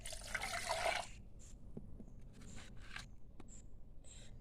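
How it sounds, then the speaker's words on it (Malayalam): Water is poured into a bowl holding curry leaves and lemon leaves for buttermilk. A close, splashing pour lasts about a second, then scattered drips and small clinks follow. "അതിലേക്ക് കുറച്ച് വെള്ളം ചേർത്ത് കൊടുക്കാം"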